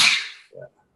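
A single sharp sneeze bursts out close by, a loud hissing blast that fades quickly, followed by a brief low voiced tail.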